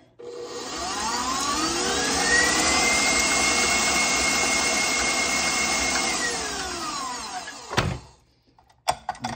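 KitchenAid stand mixer churning edible raw cookie dough, its motor whirring loudly and steadily and rising slightly in pitch, then stopping, followed by a few clattering knocks.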